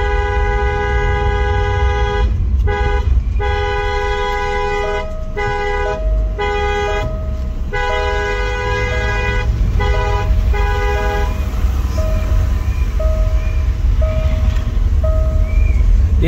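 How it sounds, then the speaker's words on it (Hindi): Car horns honk repeatedly in bursts over a constant rumble of engines in stuck traffic on a mountain road trip from Rudraprayag to Dehradun, loud and close, with some tones overlapping and a few lighter toots toward the end. "जबरदस्ती हॉर्न बजाकर मैंने निकलने की कोशिश करी"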